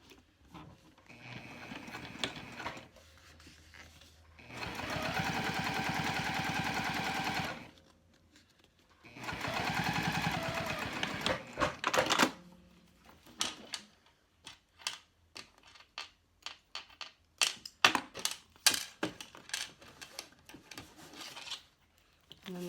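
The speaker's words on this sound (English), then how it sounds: "fold up my cork side, finger press, and then top stitch" A sewing machine top stitches cork fabric in two sustained buzzing runs, followed by a flurry of sharp ticks and clicks from handling the material.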